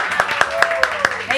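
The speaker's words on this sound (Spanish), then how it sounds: "Aplausos." Several people clap in a steady, fairly quick rhythm inside a patisserie shop, sharp claps at close range with a voice speaking loudly over them.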